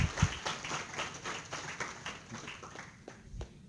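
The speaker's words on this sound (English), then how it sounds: "give him a round of applause" A lecture audience applauds, a dense run of many hand claps that starts strong and gradually thins and fades over a few seconds, heard close and alone without talking.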